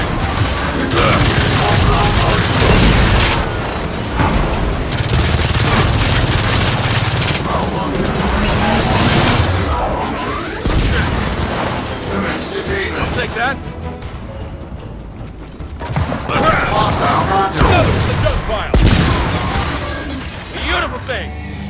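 Heavy battle gunfire in Gears of War 4, sustained loud bursts of automatic fire and impacts with brief lulls, under shouted voices throughout.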